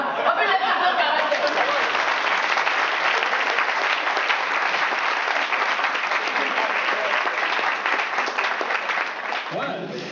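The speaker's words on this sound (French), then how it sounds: "On peut l'applaudir quand même." A full audience applauds steadily at a French-language culture and sport show, a dense, even wash of clapping that carries for about ten seconds before tapering slightly at the end, with faint chuckles in the crowd.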